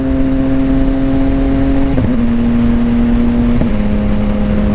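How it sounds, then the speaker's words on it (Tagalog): A CFMOTO 675NK motorcycle drones at steady revs while riding in third gear, with two quick clutchless quickshift upshifts marked by brief dips in the engine note before it settles again, loud and close with no talk. "Upshift tayo from third gear,"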